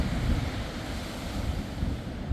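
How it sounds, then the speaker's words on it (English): Sea waves break over a breakwater at the Tyne estuary in North Shields, a loud continuous roar of surf mixed with heavy wind buffeting the microphone. "look at the waves coming over the breakwater"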